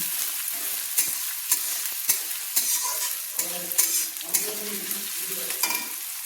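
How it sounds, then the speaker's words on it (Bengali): Chopped onions fry in oil in a pan with a steady sizzle, and a spoon stirs and scrapes against the pan at regular intervals. The sound is close and continuous, with no voices. "কোচানো পেঁয়াজগুলোকে আমি লাল লাল করে ভেজে নিচ্ছি।"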